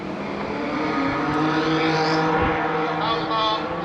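A 5-litre V8 car accelerates up a hill climb course at a Jersey motorsport event, its engine a steady, loud, sustained roar held throughout, with a commentator's voice faintly over it.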